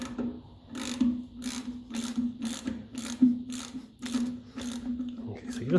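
A ratchet loosens bolts on a 1954 Ferguson 20 TEF diesel tractor. About nine evenly spaced bursts of ratcheting clicks sound close by over a low steady hum.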